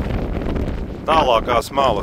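Strong wind buffets the microphone beside a lake channel near an island, a loud low rumble that keeps going while someone speaks over it.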